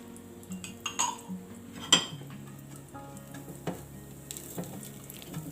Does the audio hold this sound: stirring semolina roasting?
yes